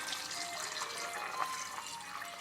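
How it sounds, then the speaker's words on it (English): Pickling liquid pours from a container over peppers in a jar, a soft, steady trickle and splash at low volume, heard alone without talk. "So we're going to pour this in."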